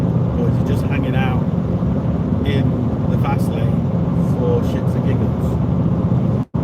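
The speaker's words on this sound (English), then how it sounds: "Is this Mercedes box van actually going to overtake me?" Steady broadband road and engine roar from a vehicle cruising at the speed limit in the fast lane, with a Mercedes box van passing close by; a voice talks faintly over the continuous drone.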